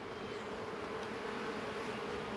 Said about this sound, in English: there is a lot of bees in here, and they're building out quite happily